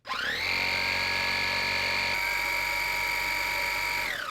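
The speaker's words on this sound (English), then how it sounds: "here's a close-up of that multi-surface brush in action" A Dreame R10 Pro cordless vacuum cleaner with its multi-surface brush runs close up: a high, steady motor whine that spins up quickly, holds constant with a slight tonal shift midway, and winds down at the end.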